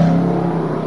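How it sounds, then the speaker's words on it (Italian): An Aprilia superbike engine fires up in the pit lane during World Superbike Superpole at Monza in 2010, holding a steady, loud, close mechanical drone for under a second. "adesso si può andare, sentiamo la sua moto."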